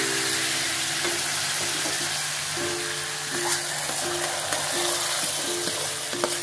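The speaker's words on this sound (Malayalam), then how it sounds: "അത് നന്നായി വഴറ്റിയതിന് ശേഷം നമ്മൾ ഈ കറി ഈ ചീനച്ചട്ടിയിലേക്ക് ഒഴിച്ചു കൊടുക്കും അല്ലേ?" Curry is poured into a hot tempering pan for a Konkani dish, giving a steady crackling sizzle with regular stirring taps against the pan. Sound is moderate and close, with no talk.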